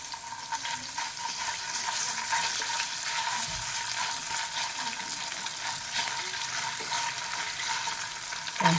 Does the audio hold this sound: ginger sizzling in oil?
yes